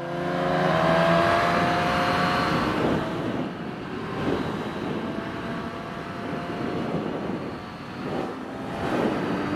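Engine of a 2021 Suzuki Katana motorcycle pulling hard in fourth and fifth gear on a night ride, a steady loud drone with rising rev sweeps early, then sustained roaring with wind rush and surging throttle.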